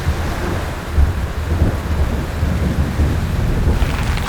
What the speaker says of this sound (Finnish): myrsky ja vesisade yltyivät